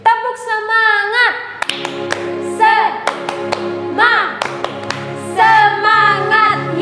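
A church congregation at a Sunday service claps in a rhythmic spirit clap, sharp bursts of hand claps in a pattern, set between stretches of singing or chanting voices.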